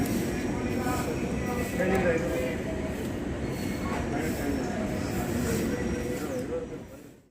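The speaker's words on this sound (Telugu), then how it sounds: "చలో, ట్రైన్ అయితే మూవ్ అయింది" A train pulling out of Hospet Junction station in Karnataka makes a loud, continuous rolling rumble with faint clattering and a brief squeal, steady throughout before easing at the end.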